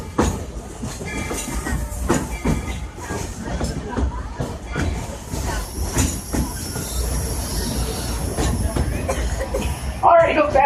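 Disney railroad train pulling into Main Street Station at Main Street, USA, its steady wheel clatter and rumble rolling on under a conductor's announcement, with a brief squeal near the end.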